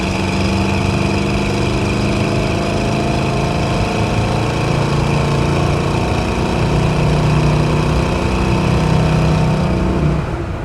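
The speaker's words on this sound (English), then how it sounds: "You do have a really nice set of aftermarket shorty headers, dual exhaust coming out the back." A 1968 Chevrolet C10 truck's 350 V8 engine, with aftermarket shorty headers and dual exhaust, idles steadily with a deep, rumbling exhaust drone, loud and close, holding an even pitch throughout.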